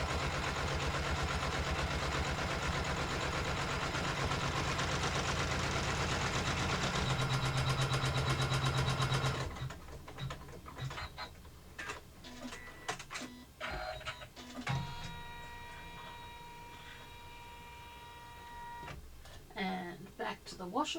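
An embroidery machine stitches an in-the-hoop wallet design with a loud, steady mechanical whirring hum. It stops abruptly, and then come quieter clicks, handling noises and intermittent short motor bursts.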